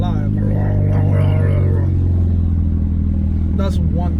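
A turbocharged car's exhaust with a newly installed downpipe gargles loudly and close, a dense steady rumble under someone talking excitedly.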